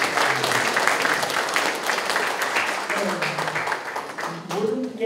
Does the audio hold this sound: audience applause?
yes